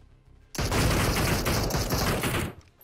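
A loud, dense volley of gunfire in a battle royale video game, a continuous roar of rapid shots lasting about two seconds, starting abruptly and ending sharply.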